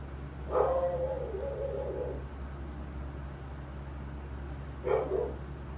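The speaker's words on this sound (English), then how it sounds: "My dog's yelling at somebody walking." A dog barks at someone walking past on the sidewalk, a few short bursts near the start and again around five seconds, mid-distance indoors over a steady low hum.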